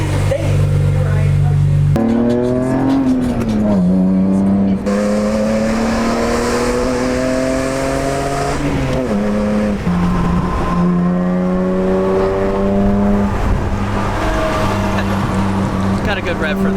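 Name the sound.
BMW M3 engine revving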